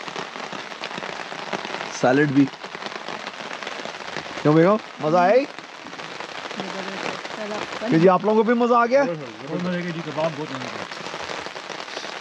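Steady rain patters throughout in a forest campsite in Ontario, with several people chatting and laughing over it while eating.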